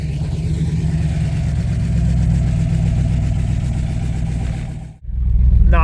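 Ford 289 V8 in a classic Ford firing up and settling into a loud, steady, rumbling idle close by, the sound dipping briefly near the end before the engine surges back.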